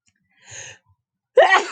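A short breathy inhale followed by one sharp, loud sneeze, close up with no talking.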